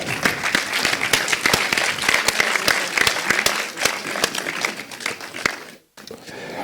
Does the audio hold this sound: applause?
yes